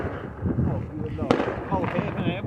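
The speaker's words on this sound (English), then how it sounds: "They finna set up more fireworks." One sharp firework crack bursts at a fireworks display midway through, heard under people talking and exclaiming close by.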